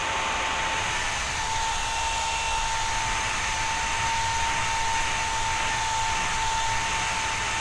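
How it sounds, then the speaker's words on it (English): Steady, loud rushing airflow from a metal-bladed PC fan pushed close to a desk, a continuous even whoosh with a faint tonal hum running through it and no talk. "Can you hear the airflow when I push it near to my desk?"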